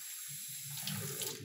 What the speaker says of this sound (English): I'm gonna put it under the running water